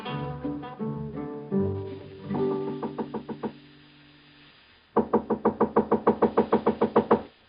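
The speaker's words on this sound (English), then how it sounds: "Come in, Hey Boy. The door's unlocked" Knocking on a hotel room door in an 1875 San Francisco radio western, a sharp run of rapid wooden raps that comes after a short tonal music sting, loud and close.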